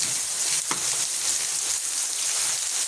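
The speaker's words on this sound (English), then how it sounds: "I know it's going to be loud from the rain." Steady, loud rain hisses across the whole band without a break, with one brief sharper tap near the start and no talking over it.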